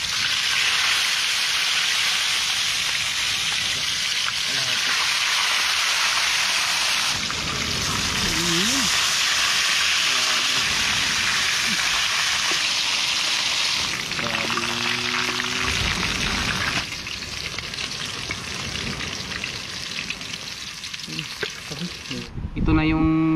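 Barracuda fillets sizzle and crackle steadily in a hot frying pan at an island beach cookout, a dense close hiss running throughout with occasional scrapes and clinks of utensils, and a brief voice near the end.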